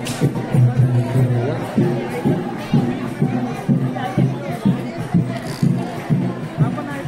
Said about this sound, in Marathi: मग आता गर्दी वाढत चाललेली आहे